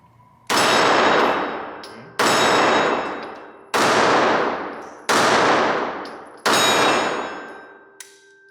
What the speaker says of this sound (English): Let me do some shooting first.